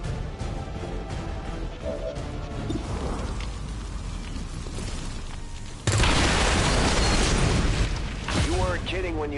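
Tanks exploding in XCOM 2: War of the Chosen, a loud booming blast that erupts suddenly partway through and rumbles on over ongoing battle noise.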